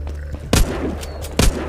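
Two loud gunshots from a zombie-shooting game, The Walking Zombie 2, spaced about a second apart over a steady low background hum.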